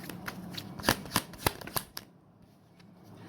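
A tarot deck is shuffled by hand, giving a run of quick, crisp card slaps close by that trail off into quiet after about two seconds.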